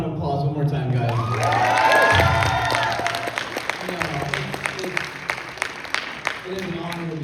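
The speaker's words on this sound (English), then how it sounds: "a big round of applause one more time, guys" A crowd breaks into applause and cheering, with shouts over it, then settles into scattered, rhythmic clapping.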